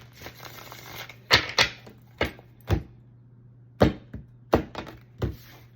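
A tarot card deck is shuffled by hand in a series of irregular soft slaps and riffles, close and quiet, with pauses between bursts.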